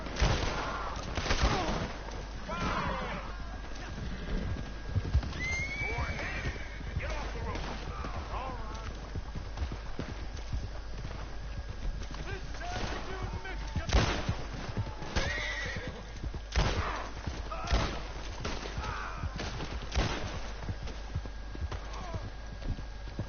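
Horses whinny and hooves clatter in a galloping rhythm in Red Dead Redemption 2 Online, with scattered gunshots cracking throughout and voices talking now and then, loud and busy.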